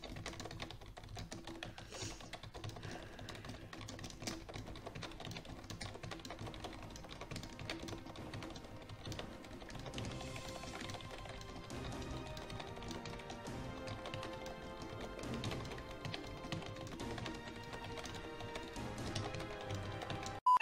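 Fast typing on a Razer Tarantula keyboard, a steady, rapid clatter of key presses running continuously for about twenty seconds, close and fairly quiet, with no voices.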